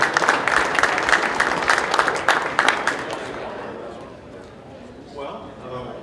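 Banquet crowd breaks into loud applause for about three seconds at a Tennessee turkey hunt banquet and auction, the clapping then thinning out as a voice speaks faintly over the fading room.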